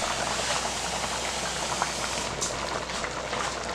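Peas boiling hard in water in a covered pot on a stove, a continuous dense bubbling hiss that stays steady and fairly loud.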